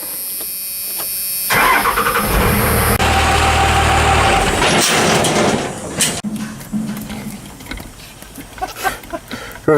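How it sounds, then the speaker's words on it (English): A Cummins diesel engine cranks and fires up, then settles into a rough, loud exhaust rumble that gradually becomes uneven and choppy, with a few clunks near the end. "He will determine it from the recording of the exhaust."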